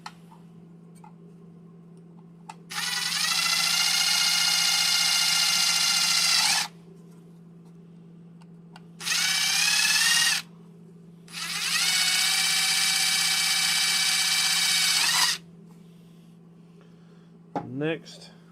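A handheld power drill bores into wood at a workbench in three loud, steady whining bursts, each a few seconds long with pitch shifting as it cuts, separated by short pauses over a constant low electrical hum, ending with a brief click.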